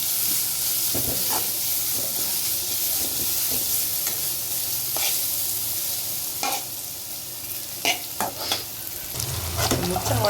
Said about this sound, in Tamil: ஸோ ஃப்ரைட் ரைஸ்க்கு வதக்கிட்டுருக்கேன்.